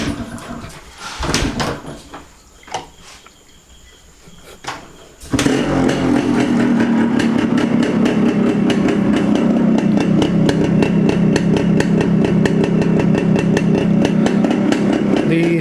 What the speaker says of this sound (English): The sound is little high because the silencer end cap is not seating properly